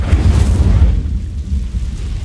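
The Incendio fire spell being cast in Hogwarts Legacy, a loud, low rumbling whoosh of flame that roars up at once and then thins slightly as it carries on for a couple of seconds.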